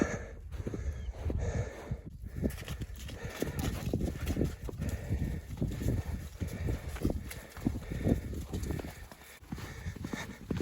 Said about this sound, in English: Here come the sheeps.